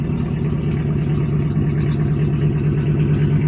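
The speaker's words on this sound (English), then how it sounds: "Okay, just let it idle." An old, rusty plow Chevrolet Suburban with a worn Quadrajet carburetor idles after a cold start, a steady, loud, low engine drone with an even rhythm and no revving, no voices over it.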